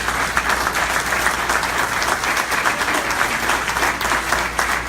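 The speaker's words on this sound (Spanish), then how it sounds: "Si le vas a dar un aplauso, va a hacerlo fuerte." An audience at a church sermon breaks into loud, sustained applause, dense steady clapping that fills the whole stretch without pause.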